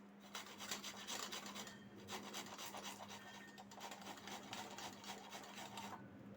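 Spices for niramish alu potol er dom are rubbed into paste by hand on a grinding stone, a close, steady series of gritty scraping strokes with a faint low hum underneath.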